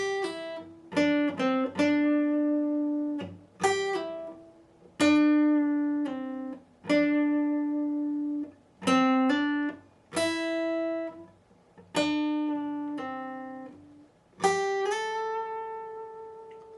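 A slow guitar solo phrase of separate picked notes and short groups, some held longer and ringing between attacks, played clean and alone at a steady unhurried pace.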